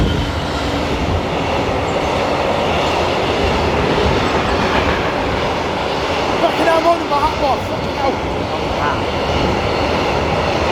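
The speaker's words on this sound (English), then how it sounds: "The train coming full speed, mate. Look how long it is." A long train passes at full speed close by, a loud continuous rumble with rail clatter over the whole stretch, while someone shouts over it.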